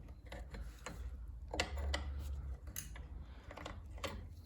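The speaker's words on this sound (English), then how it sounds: "you have to use a 15 mil wrench and just continue" A 15 mm wrench tightening a bicycle pedal during assembly of a new bike, giving quiet ratcheting clicks and metallic ticks in an irregular rhythm, close and faint.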